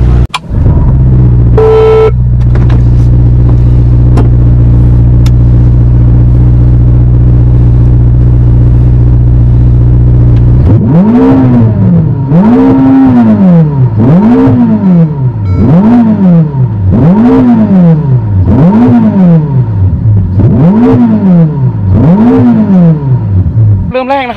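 A Ferrari SF90 Stradale, a 1000-horsepower supercar, idles with a loud, steady drone, then its engine is revved hard in about seven rhythmic, rising-and-falling blips, close and powerful.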